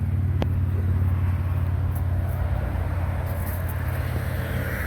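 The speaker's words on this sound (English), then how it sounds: "I got a lot of traffic coming by." Road traffic passes by outdoors as a steady, loud low rumble of vehicles, with a brief sharp click near the start and no talking.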